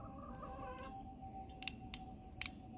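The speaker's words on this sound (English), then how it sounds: "Chickens disagree." Chickens clucking in the background near small-trailer decking and wiring work, a few faint, scattered clucks and squawks over a quiet hum.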